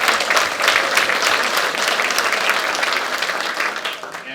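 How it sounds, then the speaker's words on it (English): Audience applause at a volunteer recognition breakfast, a steady dense clapping from a room of people that fades slightly toward the end. "So please, give yourselves a round of applause."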